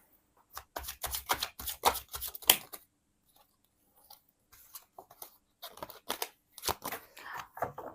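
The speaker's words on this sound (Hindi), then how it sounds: "देखते हैं इस वाले डेक से क्या आता है।" A tarot card deck is shuffled up close in quick riffling bursts of crisp flicks, with short pauses between them.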